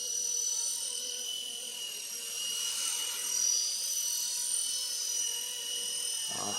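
An RC Era C189 model helicopter flies with a steady high-pitched rotor and motor whine, holding constant and fairly loud throughout with slight swells, ending with a brief thump.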